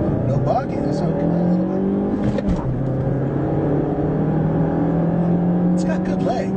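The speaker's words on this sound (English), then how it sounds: "We're going to do a really quick 0 to 60." A 2014 Mazda3 with 155 horsepower accelerates hard from a standstill to 60 mph, heard from inside the cabin as a steady, loud engine drone with a rising tone that holds throughout.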